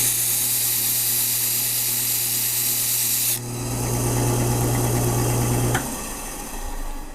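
A bench wheel abrades the hosel of a 1985 Titleist Tour Model golf iron, a steady motor hum and grinding hiss that shifts in tone partway as the metal is pressed against the wheel, then winds down near the end.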